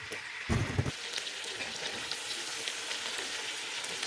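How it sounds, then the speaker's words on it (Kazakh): Chopped onions sizzle and fry in a pan for a Kazakh-style soup, a steady crackling hiss with a brief louder burst of stirring near the start, with no voices. "пиязын саламыз да, оны да кішкене сарғайғанша қуырамыз"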